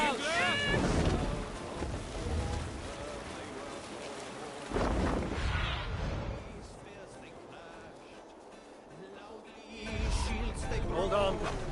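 Viking longship under sail at sea in Assassin's Creed Valhalla: steady wind and water rush with creaking, swelling and easing in waves, heard under shouted crew voices and talk.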